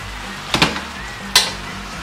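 Spicy sesame teriyaki seafood stir fry sizzles steadily in a hot pan, broken by two quick tossing swooshes, one doubled, close and loud with no voices.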